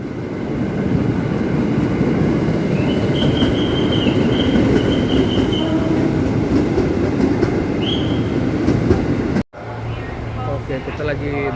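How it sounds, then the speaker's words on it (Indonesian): A KRL commuter train pulls into a station platform on an Indonesian rail line toward Bogor, its loud rumbling wheels and rattling cars filling the air, with high wheel squeals and a brief screech, then a sudden cut and quieter hum. "Oh, ini dia keretanya."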